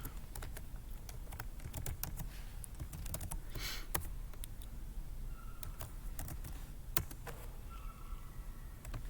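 Keys on a computer keyboard clatter in quick, uneven bursts as someone types code, close and fairly quiet over a soft room hiss, with a few sharper key presses standing out.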